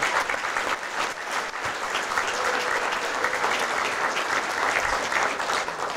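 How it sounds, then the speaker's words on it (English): Sustained applause at a 2016 athletic hall of fame ceremony honoring inducted athletes, dense and even clapping from a large audience lasting the whole stretch. "give one more round of applause right now for the athletes that were inducted tonight"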